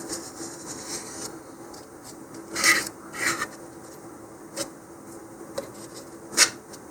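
Scraping and rasping as a thumbnail chamfers the edge of a cardboard body tube on an Estes Der Red Max model rocket, a few short close strokes over a quiet background.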